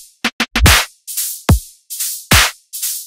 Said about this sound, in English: So first we have the drums,